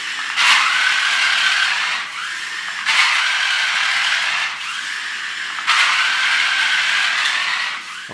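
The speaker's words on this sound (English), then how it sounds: "we have this problem with the gears on the back here not meshing" A toy Spiderman RC car with its body shell off, its rear drivetrain gears failing to mesh, gives three long grinding, ratcheting bursts of slipping gears, each about two seconds. They come up close and loud with short pauses between them and no voices.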